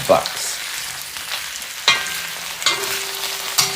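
Food sizzles steadily in a Lodge cast iron wok, with a few sharp scrapes and clinks from a metal wok shovel stirring it, close and loud, with no voices.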